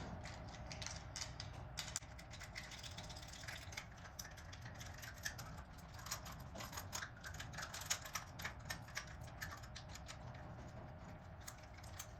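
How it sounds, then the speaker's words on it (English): A mount is screwed by hand onto the back of an ANRAN 3MP solar security camera, with faint, quick ratcheting clicks and small plastic ticks repeating close up in a quiet room. "this one just screws right into the back here"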